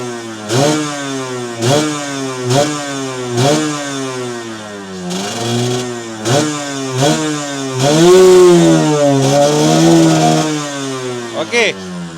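Yamaha RXZ motorcycle with a freshly set carburetor needle, its engine revving repeatedly in loud rising and falling bursts, then the throttle held high for a sustained stretch before dropping off.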